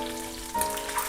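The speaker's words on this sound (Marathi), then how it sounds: "हे अंडे तेलात जरा खालीवरी करून घ्यायचे, असे परतून घ्यायचे" Eggs fry in oil with salt, chili powder and turmeric for an egg curry, a short, close crackling sizzle with a faint steady hum beneath.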